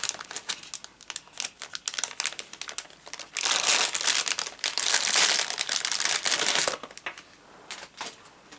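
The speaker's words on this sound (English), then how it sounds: "So I'll undo it now. Try not to rustle the paper too much." Cellophane crinkles and rustles up close as a wrapped paper-craft swap is unwrapped, first in short scattered crackles, then in a dense, loud burst of crumpling before it quiets to lighter rustles.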